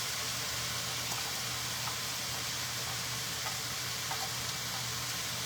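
Onions and peppers sizzle in a pan for chicken cacciatore, a steady dense crackle with faint spits and pops throughout, no voices over it.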